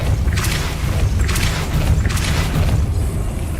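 A force-push spell is cast in Hogwarts Legacy, giving a few whooshing bursts over a steady low booming rumble, loud and continuous with no one speaking.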